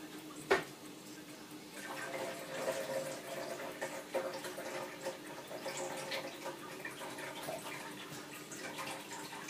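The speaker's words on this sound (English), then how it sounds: "So I'm going to drain that water now" Water draining from a roasting pan of chicken, a steady faint trickle and splash running throughout after a single sharp clink at the start, close by with no talking.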